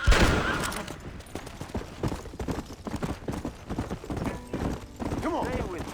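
Horse hooves gallop in a rapid clip-clop rhythm in the Red Dead Redemption video game, close and loud, with a whinny, bursts of gunfire and game dialogue over the top.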